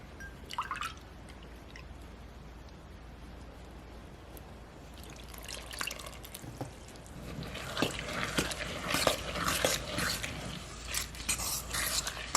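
Milk is poured into a bowl of oatmeal muffin batter: quiet drips at first, then a wet, trickling pour with soft splashes and clinks building over the last half, close by.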